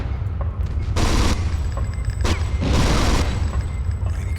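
Repeated bursts of gunfire from the Alien Resurrection video game on the Military Systems Complex level, hard difficulty, forming loud clustered volleys that swell and fade across the moment against a steady rumbling background.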